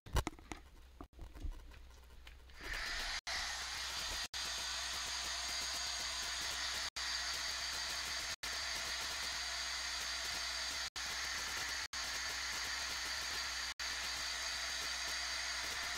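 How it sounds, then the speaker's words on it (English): A heat gun blows steadily for about thirteen seconds after a short start, drying glimmer mist on a kraft paper bag junk journal page, a continuous airy hiss with a low motor hum and a few brief dropouts. "I'm going to have to use my heat gun again"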